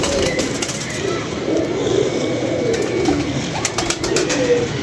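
Pigeons cooing in low, rolling calls at close range, a steady murmur of several birds from a pigeon-keeping loft, with a voice speaking faintly under them.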